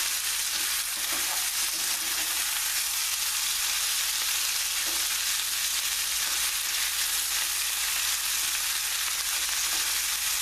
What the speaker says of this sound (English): you have to keep moving it because you don't want some of the veal to cook and other veal to be